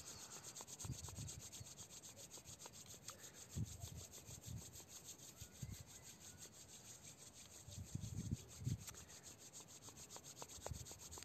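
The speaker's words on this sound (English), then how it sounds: "Let's start rubbing our hands together." Two hands rubbing together, close and soft, in a steady rough swishing with a few heavier strokes, under a faint constant high hiss.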